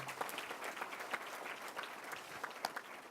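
A banquet audience at a civil-rights freedom fund dinner gives a round of applause, a steady wash of many hands clapping at moderate distance, fairly soft overall, with a few sharper claps.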